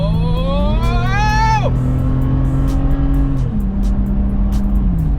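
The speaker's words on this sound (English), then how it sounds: "You can hear in the video the engine rev" A car engine revs up with a rising whine, then settles into a steady loud drone that dips slightly near the end; a voice briefly cuts through early on.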